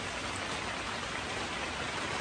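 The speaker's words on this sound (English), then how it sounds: "Downpour." Heavy rain downpour, a dense, constant roar of falling water with no letup for a couple of seconds.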